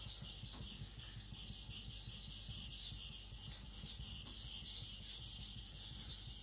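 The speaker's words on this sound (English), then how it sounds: "that's where I'm sharpening it at" A new custom knife blade is sharpened just behind the edge, with a steady, faint abrasive rubbing and grinding that continues evenly throughout.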